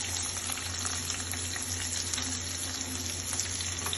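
Chopped onions, five large ones, frying in a pan with bay leaves, giving a steady, continuous sizzle close up with no talking.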